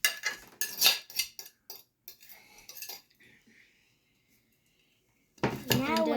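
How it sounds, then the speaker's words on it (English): A spoon clinks and scrapes around a bowl while banana nut muffin batter is stirred, quick close clatters in bursts, then a pause and a voice speaking at the end. "And then we're gonna mix."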